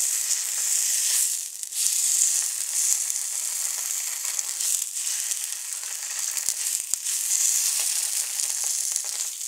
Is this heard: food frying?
yes